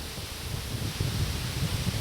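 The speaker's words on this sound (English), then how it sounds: "Oh, it's nice and breezy today" Breeze blowing outdoors during a summer beehive inspection, a soft steady rushing hiss with low wind buffeting on the microphone, faint and continuous with no talk.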